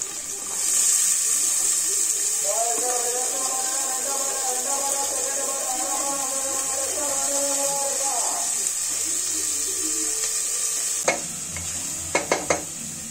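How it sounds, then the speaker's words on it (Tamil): Onions sautéing in oil in a pan for sambar rice make a loud, continuous hissing sizzle, with a faint tonal hum over it midway and a few sharp utensil clicks near the end. "எண்ணெய் ஊற்றி அதில் நல்லா வெங்காயம் போட்டு நல்லா வதக்கிக்குவோம்"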